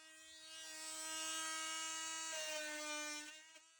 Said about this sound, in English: First up, what I most often use a multi-tool for, some drywall. Starting off with the green one in its max setting.